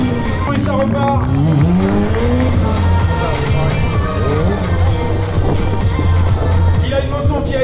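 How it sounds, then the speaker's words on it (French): A motorcycle modified for stunt riding at an outdoor DAFY stunt event revs loudly and brakes hard, its engine pitch rising and falling continuously in the foreground, with a steady low drone underneath. "Il a une moto qui a été complètement adaptée pour l'acrobatie moto. Ça freine très fort."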